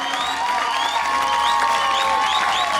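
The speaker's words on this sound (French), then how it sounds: "Applaudissez la présence de Dieu ce soir" Large crowd at an outdoor evangelism meeting in Mayotte applauding and cheering steadily, a dense continuous wash of clapping and voices with scattered high shouts.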